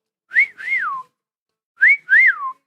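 A person whistles two short two-note phrases, each a quick rising note followed by a longer swooping fall, separated by a pause. The whistling is close and clear against silence.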